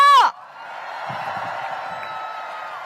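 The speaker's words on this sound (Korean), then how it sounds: "우리 모두를 향해 뜨거운 박수와 함성 다시 보내주십시오." A crowd at a Lee Jae-myung presidential campaign rally in Gwangjin and Jungnang, Seoul, cheers and applauds in a steady, sustained roar that follows a brief tone at the start.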